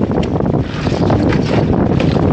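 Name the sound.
strong wind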